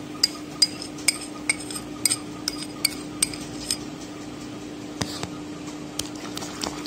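A spoon stirring honey into a rice flour paste gives light, irregular clinks and taps against a bowl over a low steady hum, with no talking.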